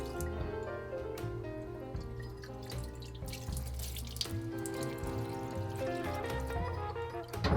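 Running tap water splashes steadily while motorcycle fork tube parts from a Harley Dyna are rinsed out in a workshop sink, a continuous close flow with occasional drips and no talking.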